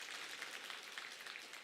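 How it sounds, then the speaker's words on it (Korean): Faint, steady applause from a church congregation welcoming newcomers at a Sunday service, heard from a distance as a continuous patter with no talking over it. "박수로 환영하겠습니다"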